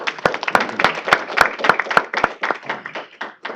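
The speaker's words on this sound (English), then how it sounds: "Let's give them a big round of applause," Applause from the audience at a state board of education meeting: a round of hand clapping with distinct sharp claps over a steady patter, lasting a few seconds at moderate loudness.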